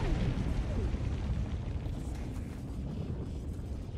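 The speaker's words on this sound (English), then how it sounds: "Salute the explosion." A big explosion in the Helldivers 2 video game rumbles loudly from the start, a deep, sustained roar with a shockwave that slowly decays, with no talk over it.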